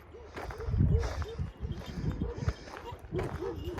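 Four dogs bark and yelp repeatedly at close range while being separated, with scuffling movement and heavy breathing throughout.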